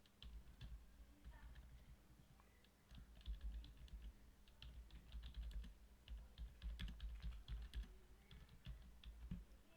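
A name is typed on a computer keyboard, quiet irregular key taps and clicks close by over soft low rumble, with no clear talking.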